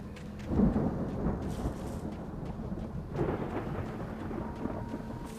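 Low rumbling thunder rolls through a stormy night in Alan Wake, swelling twice at moderate volume over a constant wash of rain and wind, with no voices.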